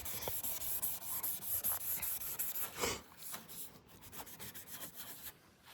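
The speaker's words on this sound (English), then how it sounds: "I'm out here just scuffing up everything black, all the trim." A gray Scotch pad scuffs the black trim on a Fox Body Mustang, giving steady back-and-forth rubbing strokes, close and fairly loud, that turn lighter and sparser after the first half.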